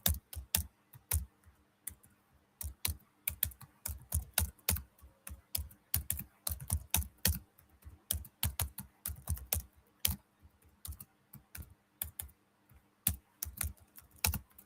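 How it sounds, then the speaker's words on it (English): Someone types steadily on a computer keyboard, with rapid clusters of crisp, close key clicks broken by short pauses, and no voices. "Yes, I'm typing right now."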